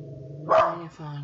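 A pet dog gives a single bark close by in a room, sharp and fairly loud over a steady electronic hum from a computer game playing in the background.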